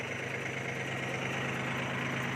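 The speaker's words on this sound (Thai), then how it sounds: "ตัวนี้เป็นเทอร์โบนะครับเครื่องเทอร์โบสามสูบ" A three-cylinder turbo engine on a tractor fitted with a blade and rotary idles with a steady, even drone, close and constant throughout with no pauses.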